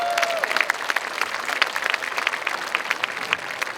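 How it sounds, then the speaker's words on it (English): A crowd at a high school marching band event claps for student leaders, giving steady, dense applause throughout, moderately loud and continuous. "So give my student leaders a big round of applause."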